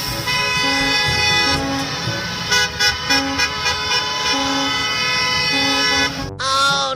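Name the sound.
school bus horn honking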